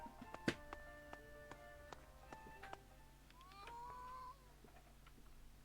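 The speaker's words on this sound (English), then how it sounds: "What was that? A cat's yowl?" A cat yowls in the video game A Space for the Unbound, with stacked harmonic cries that repeat through the first seconds and a longer wavering, rising call near the end, set against quiet game ambience.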